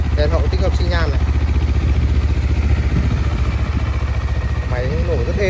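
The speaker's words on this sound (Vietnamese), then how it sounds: "Máy nổ rất êm." A 2019 Honda CBR 250RR sport bike with a twin exhaust idles steadily and close by, its engine thrumming evenly throughout while someone talks over it.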